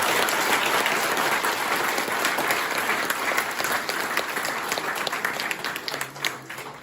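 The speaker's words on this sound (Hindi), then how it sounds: "आप जोरदार तालियां बजाओ" Loud, dense audience applause at a leadership training session, a steady roar of many hands clapping that holds for several seconds and eases only slightly toward the end.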